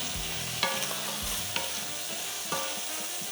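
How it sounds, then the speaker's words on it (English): Garlic and pancetta sizzle loudly in a pan with a continuous bright crackle, while three spaced clinks or scrapes of a spoon break through up close, and no voice is heard. "you get that garlic going with the pancetta"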